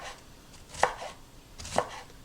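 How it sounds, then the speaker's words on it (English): A knife chops through cabbage on a cutting board in two sharp, distinct strokes about a second apart, close and clear with no talking. "I'm going to start shredding up my cabbage"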